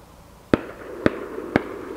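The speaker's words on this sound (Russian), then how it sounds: "Это с большой воды стреляют." Three distant shotgun shots from duck hunters out on open water beyond a marsh, evenly spaced sharp cracks about half a second apart, fairly faint over quiet outdoor background.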